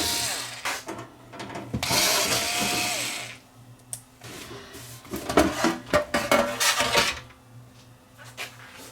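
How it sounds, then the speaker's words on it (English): Screws being removed and the casing opened on a faulty JVC MX-J9 stereo, with close clicks, metallic scrapes, rattles and handling knocks in irregular bursts. "screws come out of the back and on the side to open these units up"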